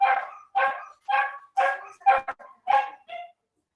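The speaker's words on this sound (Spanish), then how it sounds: "¿Escuchan a mi perrito?" A small dog barks sharply seven times in an even rhythm, close and loud, each yap separated by short pauses, with no voices over it.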